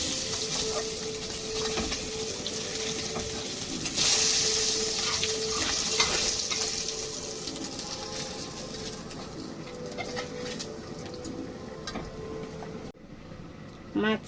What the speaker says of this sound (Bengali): মাথাটা ভেজে নিয়েছি।